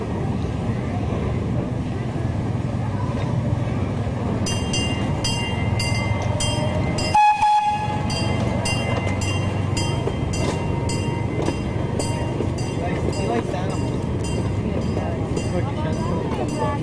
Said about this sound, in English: Look, the train's coming.